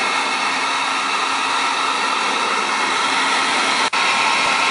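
A heat gun warming the hardened sealant on a VW Golf or Jetta headlight gives a steady, loud, broadband blowing roar that holds evenly throughout, with one brief click near the end.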